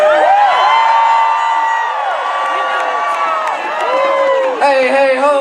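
A large crowd of demonstrators at a democracy protest cheers and whoops loudly and continuously, many overlapping high shouts rising and falling close by.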